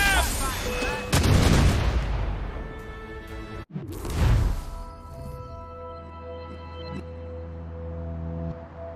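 Ship cannons firing in Assassin's Creed Rogue during a naval battle, two heavy booming blasts a few seconds apart, each ringing out into a long rumbling tail, with faint voices beneath.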